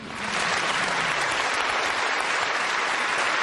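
A studio audience bursts into steady, loud applause after a Brabus S V12 S Roadster's hot lap, the dense clapping rising quickly and holding full and even throughout with no voices over it.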